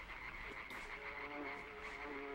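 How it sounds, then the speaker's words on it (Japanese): Frog croaking in the dark side-scrolling game LIMBO, faint repeated croaks over a low ambient hum and buzzing insect wings, with no talking. "やだこの羽音、カエルの音もするけど"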